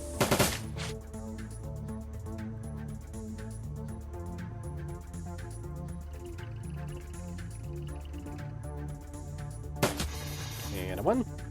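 Automated turrets in the video game Shadowrun Dragonfall fire short rattling bursts at the start and again near the end, loud over steady in-game music.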